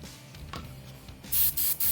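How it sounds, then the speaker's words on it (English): An airbrush spraying a little paint through the needle during a clear-out pass, a brief close hiss coming in short bursts with no talking. "Let's do the spray through again."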